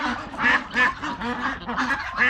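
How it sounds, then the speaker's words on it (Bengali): Ducks on a large duck farm in Cambodia quack loudly and repeatedly up close, a busy overlapping chorus of nasal calls. "এই হাঁসগুলো আসলেই অনেক সুন্দর"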